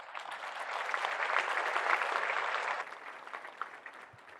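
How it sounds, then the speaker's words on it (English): Audience applause from a crowd at a live talk, steady dense clapping that swells through the middle and thins toward the end, with no voices over it. "Round of applause, round of applause."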